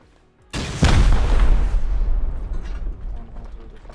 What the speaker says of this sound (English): Just 2 rockets for that. Let's go through 2 rockets.